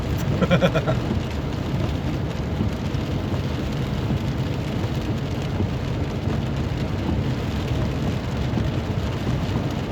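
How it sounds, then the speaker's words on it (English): Steady rain pouring on a windy Saturday morning, a dense continuous hiss filling the scene with no letup, fairly loud and close. "we still got all that rain coming down"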